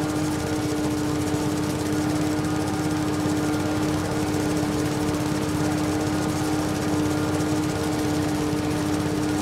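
Lawn mower engine in Farming Simulator 22 runs loud and close with a steady, buzzing drone and a strong constant whine, unbroken for the whole stretch.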